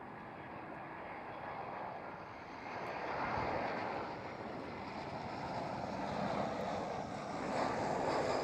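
A Lufthansa airliner in Star Alliance livery rumbles at Schiphol airport, a faint, steady distant jet roar that swells and recedes under wind noise.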